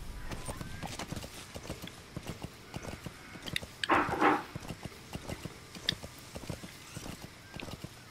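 Horse hooves in Metal Gear Solid V: The Phantom Pain clip-clop at a steady walking rhythm throughout, with a brief louder snort or whinny midway, under a faint background hum.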